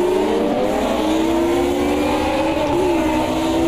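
A Mercedes 190E touring car engine revs hard on the grid at Hockenheim in a racing game, loud and sustained, with a sharp pitch rise near the end as the car launches.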